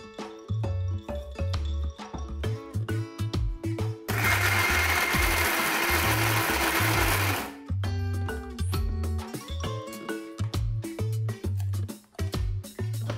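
A mixer grinder blends minced mutton with red chilli into paste for seekh kebabs, a loud motor whir running about three seconds over rhythmic music that carries on before and after.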